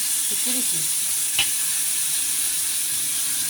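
Jatka hilsa fish frying with dried chili in a pan gives a loud, constant sizzle and hiss throughout. A few brief stirring clinks come early, and a short voice is heard faintly.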